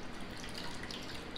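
An egg and milk mixture with corn pours steadily into a baking dish for corn pudding, a continuous liquid splashing and gurgling close up with no pause.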